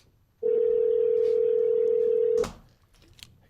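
A telephone's steady electronic tone sounds loud and unbroken for about two seconds, then stops, leaving low room noise and faint background sounds.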